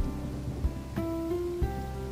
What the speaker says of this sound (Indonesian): Hujan, kita main hujan dulu guys.